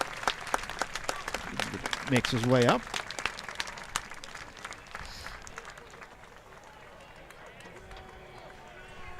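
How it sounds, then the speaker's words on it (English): A crowd at a varsity high school football game in Menomonie applauds an injured player, a burst of clapping under a commentator's voice that swells briefly, then fades into quieter crowd murmur. "Crowd will give him an applause"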